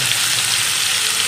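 Potatoes and onions fry in a pan for a fish curry, giving a continuous close, bright sizzle with no pauses and no voices.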